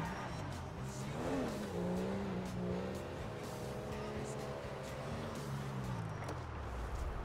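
A car driven in the video game GTA 5 roars with a steady engine drone that rises and falls as it revs, loud and continuous throughout, with tire noise mixed in.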